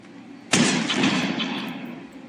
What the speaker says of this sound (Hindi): भाई, शॉटगन चला रहे हो ग्रैंडपा भाई।